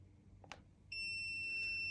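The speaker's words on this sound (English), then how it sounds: "What that will do is give you a long continuous beep" A mobility scooter emits a long continuous high electronic beep while unpairing, starting abruptly after a couple of faint clicks and holding steady and clear to the end.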